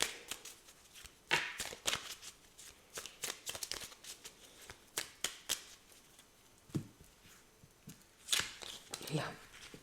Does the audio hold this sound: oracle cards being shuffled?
yes